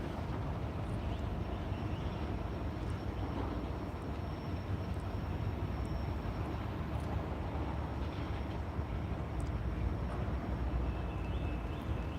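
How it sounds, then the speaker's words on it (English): A freight train's end-of-train device powered by the train's air lines gives a steady, continuous whine, with a faint high tone held over a dense rumbling rail-yard background that runs unbroken at a constant level. "You can hear that whine. That's the EOT device that is generating its power from the airlines of the train."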